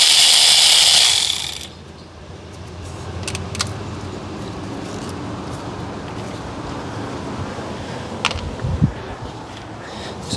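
A ratchet tightens a small 10 mm electrical bracket bolt in the engine bay of a 2007 Toyota Corolla, giving a few sparse, close clicks and metallic taps after a brief burst of louder noise at the start.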